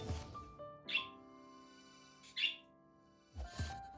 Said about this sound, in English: in case you're wondering why the birds get so hyperactive